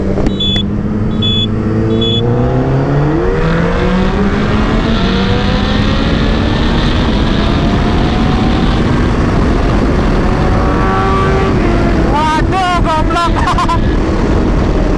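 MT-09, CBR1000RR and R6 sport motorcycles accelerate hard together on a straight from a second-gear rolling start. Loud, near engines climb steadily in pitch, and a sharp high whine rises toward the end.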